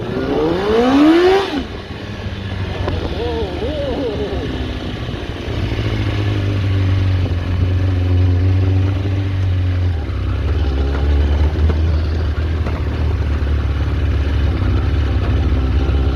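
Kawasaki ZX4 motorcycle engine revving hard and holding high revs while the back wheel spins, loud and close, with a steady droning roar that shifts pitch throughout.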